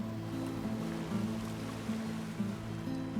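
Flowing river water in the Death Stranding 2 video game, a steady rushing wash with gentle surges, moderately loud and continuous, no talking.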